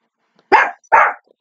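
A small dog gives two sharp, loud barks close by, about half a second apart, with silence on either side.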